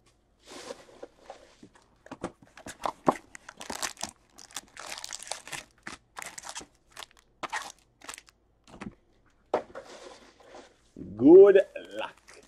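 A Topps Tribute baseball card box is opened with crinkling wrapper and cardboard, giving close, crisp rustles and crunches in irregular bursts. A voice rises briefly near the end.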